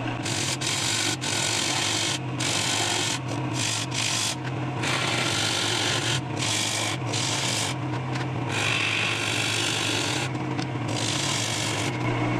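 A woodturning lathe spins a bowl while a tool gently cuts away the tenon, a continuous loud scraping, rasping cut with short breaks in contact and a steady motor hum underneath.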